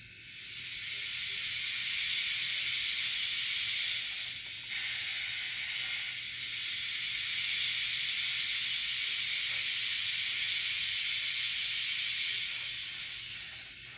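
Continuous loud steam hiss from a Rivarossi HO-scale C&O Allegheny 1653 model locomotive's sound effect, steady throughout with slight swells and dips, no voices.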